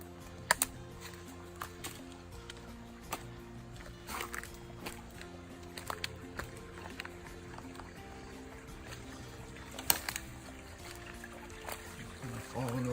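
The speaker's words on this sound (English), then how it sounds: "You can probably hear the water running." Water running through a small natural drainage stream on wooded private property, trickling and falling over tree roots; a faint, steady flow heard at a distance with soft scattered ticks and rustles on top.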